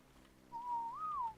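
A single rising and falling whistle command from the video game Ark Survival, a clean, tuneful whistle about a second long that dips and lifts before ending, heard alone over faint background hum.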